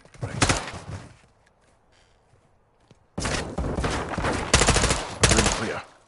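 Gunfire in the video game Call of Duty Modern Warfare 3 during a room-clearing fight, loud bursts of shots near the start and a dense volley of rapid fire after a quiet gap, with faint voices between.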